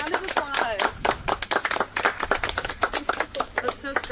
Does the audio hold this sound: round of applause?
yes